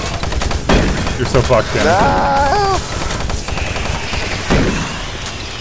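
Automatic turret guns in Doom 3 co-op firing in rapid bursts of loud, close gunfire, with a rising mechanical whine and groaning cries mixed in, while players talk over the shooting.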